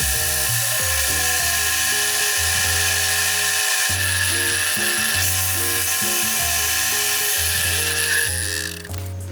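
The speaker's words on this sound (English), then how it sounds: "I'm actually going to drill a pilot hole in the center first" A power drill whines loudly and continuously, its pitch rising and falling as it bores a pilot hole into wood, then winding down at the end.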